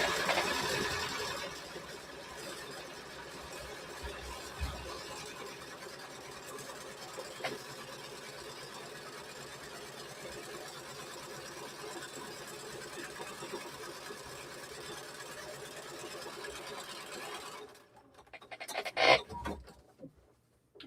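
Sewing machine stitching a quilted vest, a faint steady mechanical whir running for most of the stretch with a few soft knocks, then stopping near the end before a brief louder rustle.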